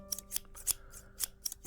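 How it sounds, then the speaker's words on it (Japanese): Barber's scissors snipping hair, a run of crisp, close metallic snips in an irregular rhythm over a quiet background. "ハサミの音がチャキチャキする。"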